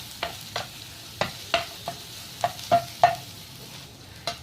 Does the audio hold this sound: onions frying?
yes